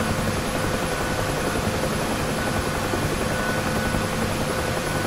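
A UH-1H Huey helicopter in the DCS flight simulator drones with steady rotor thump and turbine whine, loud and unbroken throughout.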